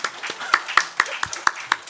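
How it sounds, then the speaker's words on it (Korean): A church congregation at a Sunday worship service claps for the choir, with steady, evenly spaced claps in a quick rhythm and faint voices murmuring underneath. "성가대에서 박수 한번 하겠습니다."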